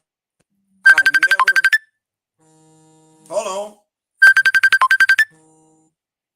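A phone ringtone plays two loud bursts of rapid repeated electronic tones, separated by a short spoken interjection, in an otherwise quiet room.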